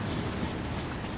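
A water truck fills up at a fountain beside greenhouses in the Farming Simulator 17 video game, producing a steady, continuous rushing of water that holds at an even level throughout.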